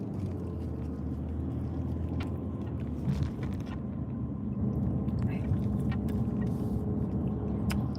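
A car driving along a road in Las Vegas gives a steady low engine and road rumble throughout, with a person talking faintly over the continuous drone from inside the cabin.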